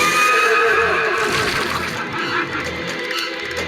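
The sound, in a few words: horse neighing in a video game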